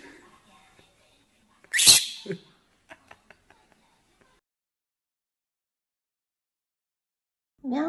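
A pet parrot mimics a human sneeze, one sharp loud burst followed by a softer echo, then a few quiet clicks and a long near-silent pause before a brief voice at the end.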